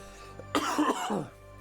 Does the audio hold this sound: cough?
yes